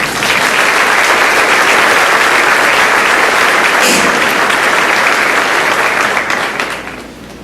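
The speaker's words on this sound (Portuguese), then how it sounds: "Quem crê nisso, aplauda o Senhor Jesus" A church congregation applauds loudly and continuously, the clapping holding steady before tapering off at the end.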